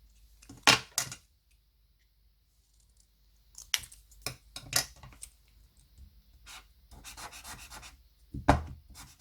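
Scissors cutting a paper page for a handmade scrapbook mini album, heard as short crisp snips and rustles in separate bursts, close up and alone without speech.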